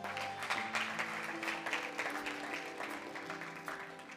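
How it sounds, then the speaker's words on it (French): Church congregation applauding for Jesus, a dense, continuous clapping from a crowd with faint voices mixed in, moderately distant. "Acclame Jésus"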